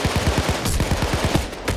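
Rapid bursts of automatic gunfire in Payday 2, a steady rattling stream of shots loud and close, with a brief sharper crack partway through.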